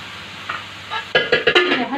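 Chicken sautéed in fat in a pan, for a potato and chicken tray bake, sizzles softly at first. Then comes a run of loud, close stirring and flipping scrapes with a quick rhythmic clatter.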